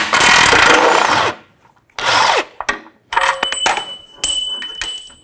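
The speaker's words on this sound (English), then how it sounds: "We're gonna dismount our two mounting bolts, 21 millimeter socket below and a 21 millimeter wrench on the top" A 21 mm socket below and a 21 mm wrench on top work the steering rack mounting bolts of a 2009-2014 Nissan Maxima, giving loud bursts of metallic turning and rasping, then short clinks and scrapes, with brief quiet gaps between.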